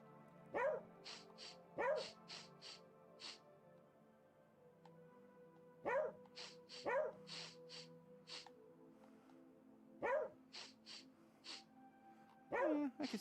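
A dog barks in The Good Life video game: short barks in quick pairs return every few seconds, close and clear, over soft game chimes.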